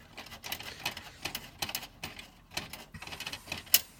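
A spacer card is pulled out of a slot in a desktop PC, giving a run of sharp metallic clicks and scrapes in uneven bursts over about four seconds, close and fairly quiet.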